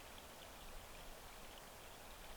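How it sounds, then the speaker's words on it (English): A small creek in a narrow mountain valley on a Colorado elk hunt, running beside the listener as a steady, faint, broadband rushing murmur with no voices. "It's running right beside us right here. So it's a little stream."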